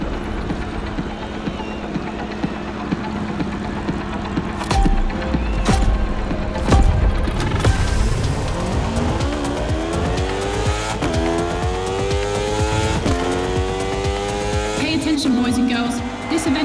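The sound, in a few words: motorcycle racing engines in video game The Crew Motorfest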